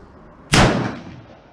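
A single sharp rifle shot from a Ruger M77 in .243 Winchester firing a Berger bullet load, loud and close, with a sudden crack that decays into a long outdoor echo tail.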